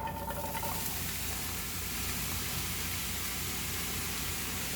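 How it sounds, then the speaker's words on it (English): Vegetables sweat in olive oil in a pot for a spicy chickpea soup, giving a soft, even, continuous sizzle at low volume with no voices. "Okay, so I've added some olive oil in here to sweat our veggies."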